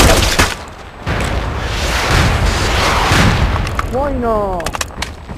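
Artillery strike explosions from the online shooter MAG, a sustained rumbling barrage of booms and blasts over several seconds, loud and close, with a radio voice and a player talking over it.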